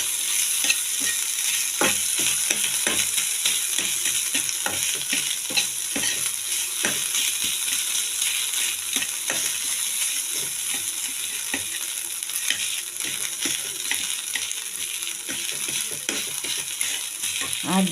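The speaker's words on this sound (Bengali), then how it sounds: "আলু কাঁচা লঙ্কা দিয়ে আবার একটু ভালো করে ভেজে নেব।" Potatoes and green chillies frying in a pan, a steady close sizzle with frequent scraping stir strokes and light clinks running throughout, no voices.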